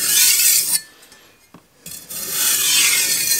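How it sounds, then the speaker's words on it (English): A Shun cleaver drawn across a whetstone in light, single cutting strokes, giving a close raspy rubbing that pauses briefly in the middle before resuming. "I'll do some real light passes, single cutting strokes"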